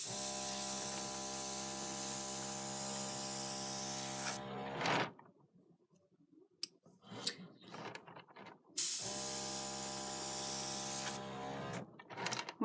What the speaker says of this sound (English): What I like about the airbrush, as opposed to a can of compressed air or a hairdryer